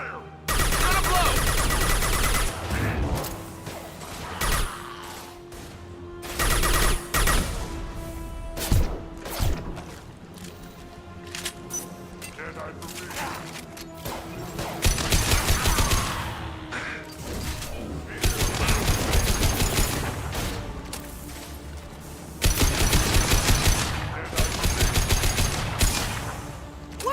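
Rapid bursts of gunfire in the video game Mass Effect, loud clustered volleys and machine-gun rattles with crashes and thuds between them, the fighting surging and easing over the stretch.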